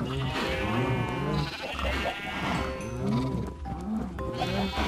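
Sheep in the video game Minecraft bleat several times in overlapping, wavering calls, close and fairly loud over a steady background hum, with a voice speaking between them.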